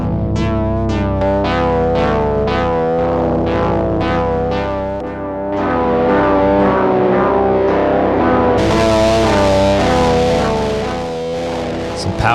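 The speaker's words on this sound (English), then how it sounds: "Powerful distortion right there." A loud, gritty distorted synth sequence pulses through an Ableton Live Shaper effect rack preset, rhythmic notes chopping at first and then sustaining with heavy harmonic saturation and a brighter, harsher top toward the end.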